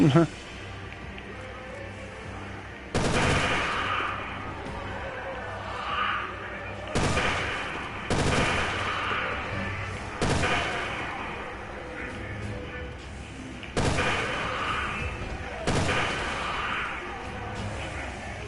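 Repeated loud gunfire bursts from the Resident Evil Revelations 2 video game, each blast cutting in abruptly every few seconds, with someone talking steadily over them.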